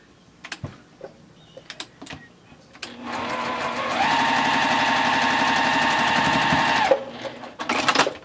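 A sewing machine stitches pieces for a pinwheel quilt block, starting after a few soft handling taps and running in a steady loud burst for about four seconds before stopping, followed by light rustling.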